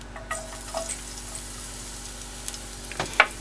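Garlic sizzles in hot olive oil on a boat galley stove, a steady faint frying hiss with a few louder crackles and stirring clatters.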